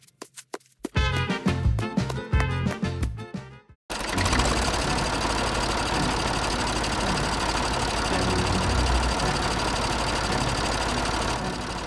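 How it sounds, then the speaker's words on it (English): Old farm tractor engine running in a cartoon, starting with a few rough sputtering bursts, then after a brief gap settling into a loud, continuous chugging idle that persists to the end. "That was the one old tractor."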